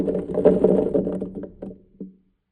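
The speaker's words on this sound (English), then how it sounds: "And throw them into a powerful blender." Drained, rinsed canned chickpeas tumble into a powerful blender jar in a quick burst of rattling clatter that thins out, ending with one last knock.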